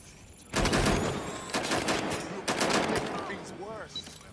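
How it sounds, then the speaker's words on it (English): Bursts of rapid gunfire ring out in the open-world game Watch Dogs Legion, several loud volleys in quick succession with echoing tails, alongside shouting and frantic voices. "Suspect is shooting. Watch out! Shots fired!"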